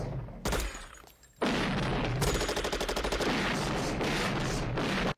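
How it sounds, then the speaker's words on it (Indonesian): A gunfire exchange in an action film scene as a commando fights his daughter's kidnapper: a single loud shot, a pause, then a sustained burst of rapid automatic fire, loud and close. "Harris menembaki John. Dan akhirnya John membalas tembakan tersebut"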